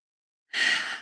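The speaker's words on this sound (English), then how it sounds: "Take some deep breaths in, slowly exhale" One slow, breathy exhale after a deep breath, close and fairly loud, starting after half a second of silence and trailing off softly.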